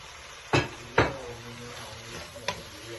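Fried mushrooms being stirred into masala in a pan, with a few sharp scraping clacks of a spoon against the pan over a soft sizzle, no voices.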